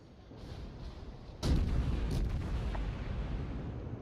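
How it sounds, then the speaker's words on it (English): Cruiser guns fire in the naval video game World of Warships: a single heavy boom after a quiet lead-in, followed by a rumbling tail, with no talk over it. "Especially when you have cruisers firing at you."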